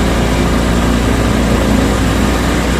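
A Honda Activa scooter engine runs steadily up close as its air screw is slowly opened during a mileage adjustment, giving a constant, moderately loud engine hum with the revs creeping up, and no talk.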